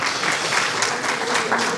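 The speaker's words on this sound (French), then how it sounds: "Et ça mérite des applaudissements quand même." Audience applause in a hall during a speech about Senegal's political stability, a steady dense clapping that holds loud and even throughout, with no voices over it.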